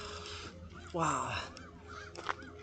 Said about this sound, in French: Les corbeaux, les corbeaux, les corbeaux.